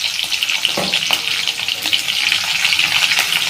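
Curry leaves, chopped ginger and garlic, and sliced green chillies fry in hot oil for Kerala-style mango pickle, making a dense, loud sizzle with sharp crackles and spits, no talking.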